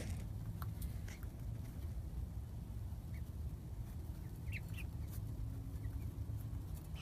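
Ten-week-old chickens on their first full day outdoors cluck softly now and then, faint and scattered over a low, steady outdoor background hum, with no talking.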